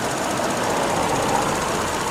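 A car engine idles at about 700 RPM, a smooth, steady, close mechanical hum and rapid knocking pulse running unbroken with no talk over it.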